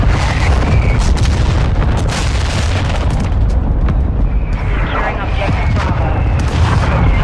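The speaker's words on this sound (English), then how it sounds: "Friendly mortar strike on the way." Heavy booming blasts from a mortar strike in Call of Duty Modern Warfare 2, loud and dense across the whole stretch, with gunfire and chatter mixed in a chaotic battlefield din.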